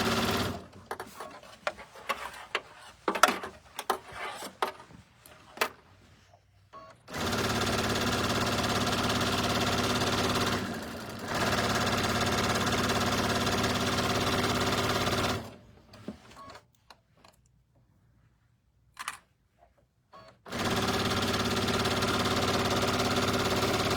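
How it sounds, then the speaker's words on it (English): A sewing machine stitches around the edges of a cinch bag in long, steady bursts of fast whirring that stop and restart several times, with quieter clicks and handling noises in the pauses. "And we're stitching around all the edges."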